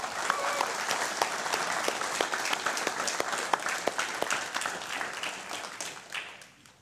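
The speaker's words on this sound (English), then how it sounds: "As a congregation, I think we can welcome also with a round of applause" A church congregation breaks into a round of applause during a Sunday service, dense steady clapping from many hands filling the room for several seconds before thinning out toward the end.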